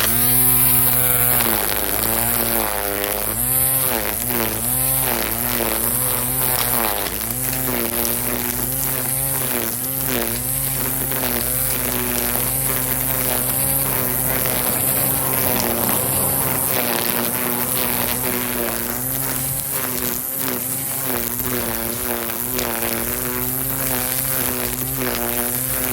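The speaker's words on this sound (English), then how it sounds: "I would say that's a really nice weed whacker." A battery-powered string trimmer running on Dewalt batteries gives off a steady, loud, high buzzing whine whose pitch rises and falls as it works outdoors near a street, continuous throughout with no speech.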